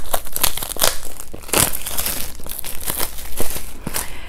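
Scissors cutting open a cardboard box of cards, with close, loud crinkling, tearing and rustling of packaging in rapid irregular bursts.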